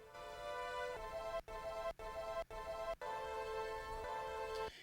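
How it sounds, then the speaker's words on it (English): Sampled string section lifted from a song, sustained and harmonically rich, with held chords broken by several abrupt short cuts that chop it into even segments. "I also grabbed some strings from the same song,"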